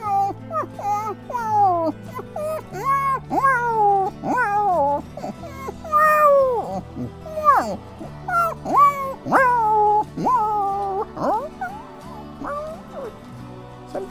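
A human voice imitates a small puppy crying: a steady run of high, wavering whines and whimpers, close and fairly loud, continuing for about fourteen seconds with no other talk.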